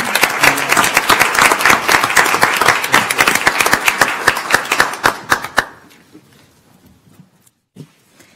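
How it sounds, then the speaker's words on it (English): A county commissioners court meeting audience breaks into loud, dense applause that carries on for about five seconds, then thins to a few scattered claps before fading to near silence. "Can I have a round of applause?"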